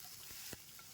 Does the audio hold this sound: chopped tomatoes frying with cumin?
yes